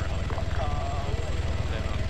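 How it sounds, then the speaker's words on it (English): A video game helicopter coming in to land, a steady close rotor chop and engine whine under a voice talking throughout. "Third chopper's just coming in now."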